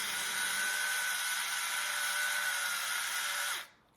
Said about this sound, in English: We have it in a fancy little grinder here